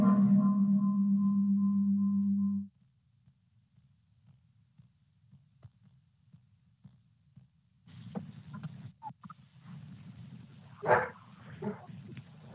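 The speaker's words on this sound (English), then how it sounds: "your dog is barking in the background" A dog barks faintly in the background of a town hall call heard over a phone line. A few scattered barks come after a loud steady hum cuts out.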